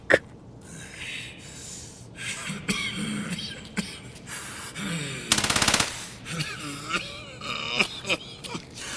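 A silenced Uzi fires a short, rapid burst in Escape from Tarkov, a tight cluster of suppressed shots standing out among footsteps, breathing and other quiet game sounds.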